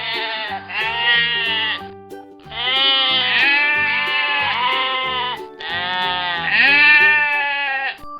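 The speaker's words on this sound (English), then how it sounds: "It's a sheep." Three long sheep bleats in a row, each a loud wavering harmonic call lasting about two seconds, heard close and alone with short gaps between them.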